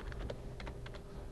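A ping command is typed on a computer keyboard: a quick, uneven run of soft key clicks, close and fairly quiet, with no voices.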